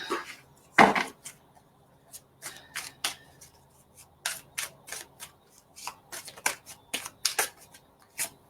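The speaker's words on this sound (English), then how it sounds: "Now, I was just shuffling" Tarot cards being shuffled in a series of quick, crisp riffles and taps, close up, with brief pauses between bursts and no talking.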